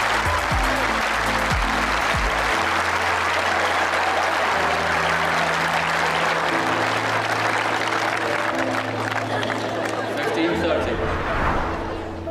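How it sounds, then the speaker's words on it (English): Crowd applause at a tennis exhibition after a Mansour Bahrami trick shot: dense, sustained clapping and chatter that fill the whole stretch, with a voice talking over it, before fading near the end. "They have a clap."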